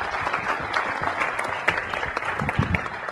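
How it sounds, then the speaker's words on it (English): An audience applauds a guest coming up on stage at a real estate web series event, a steady burst of clapping from a modest crowd with no talking over it. "Everybody give Les a round of applause real quick"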